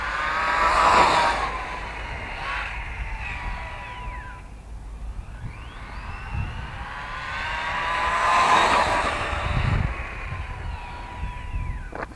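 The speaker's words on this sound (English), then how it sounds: "Fast little truck." Small electric 1/10-scale RC truck on a 3S battery in bash setup, motor whining up and down in two loud passes with Doppler-like rising and falling tones, revving fast between quieter stretches.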